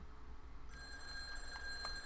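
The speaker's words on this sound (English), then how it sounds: "I can't answer you, phone!" A telephone in the horror game Bequest rings faintly with a steady electronic trill that starts partway through, sitting over a low, constant background hum.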